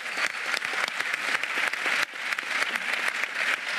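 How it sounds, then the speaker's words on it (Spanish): A dense crowd applauds steadily, many hands clapping at once in a continuous wash of sound with no voices standing out. "Aplausos."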